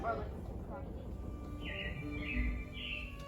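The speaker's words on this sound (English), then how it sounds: "It looks like the Robins are getting ready to celebrate Valentine's Day today." Animatronic robins chirp on Disney's Carousel of Progress ride at the Magic Kingdom, a few short bright tweets in a row over a steady low hum of the show's audio.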